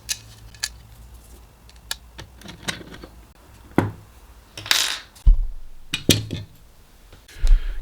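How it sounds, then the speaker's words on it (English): Small metal screws, M4x8, are handled while fitting a laser lifting bracket to a base plate: scattered close clinks, taps and clatters of metal parts on a hard surface with quiet gaps between. "First part of the assembly is fitting the lifting bracket onto the base plate, and to do that we're going to use 4 M4x8 screws."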